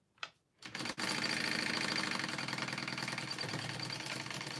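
A sewing machine runs continuously at speed, top stitching a flap shut, with a steady rapid mechanical whir and needle clatter after a couple of brief handling knocks at the start.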